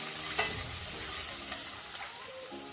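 Chopped onion, green chilli and ginger fry over low to medium flame in a pan, giving a steady soft sizzle with faint stirring scrapes throughout.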